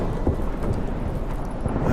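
Steady heavy rain with a low rumble of thunder during a storm at sea in The Witcher 3, a continuous dense wash of sound with no voices.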